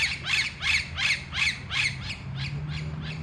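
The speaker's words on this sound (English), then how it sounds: "Hey parrots, parrots." Parrots squawking in trees in Trinidad, a repeated series of harsh calls in a steady rhythm, about nine in quick succession, loud at first and then a little softer, with no voices.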